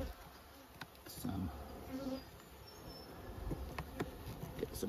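Bees buzz around an open, strong hive during spring hive work in Australia, a soft, continuous drone with occasional louder passes as individual insects fly near, against a quiet outdoor background.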